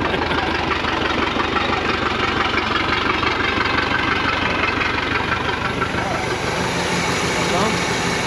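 Eight-cylinder boat engine idling while not firing on all cylinders, a loud, steady, close rumble throughout, with people talking over it.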